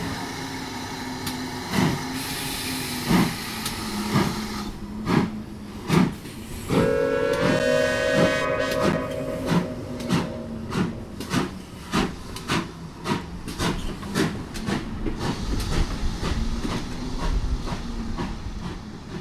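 A train rumbles along the rails with rhythmic clickety-clack beats and hissing steam, while a long whistle sounds partway through.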